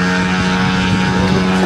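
An updated Pitts Special aerobatic model aircraft flying at a model air show: a loud, steady propeller-engine drone that fills the whole moment with no pauses.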